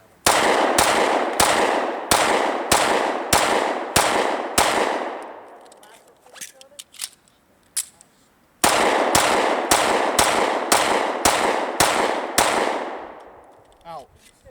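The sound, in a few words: 1911 pistol firing, reloading and firing again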